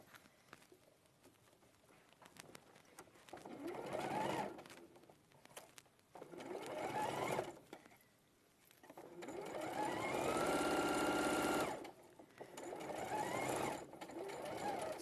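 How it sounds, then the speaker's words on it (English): A sewing machine stitches fabric in four separate runs, each a fast, even mechanical clatter that stops and starts again, the third run the longest, with quiet pauses between runs. "I'm going to sew from here to there first."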